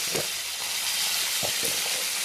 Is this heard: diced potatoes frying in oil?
yes